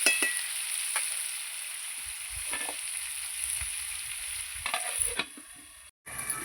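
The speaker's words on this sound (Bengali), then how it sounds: "আলুটা আমি লাল লাল করে ভেজে নেব।" Potatoes with salt and turmeric fry in a covered pan, giving a steady, moderate sizzling hiss with a few light knocks and a brief dropout near the end.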